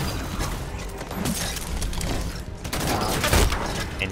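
Rapid, dense gunfire from a Halo 5 firefight keeps on almost without a break, with heavier booming shots mixed into the constant crackle.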